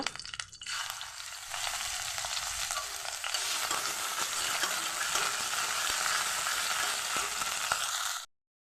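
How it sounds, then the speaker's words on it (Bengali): Mustard seeds and ginger paste hit hot oil in a kadai, bursting into a loud, dense, crackling sizzle that holds steady for several seconds before cutting off abruptly. "সর্ষে ফোড়ন দিয়ে দিচ্ছি আদা বাটা"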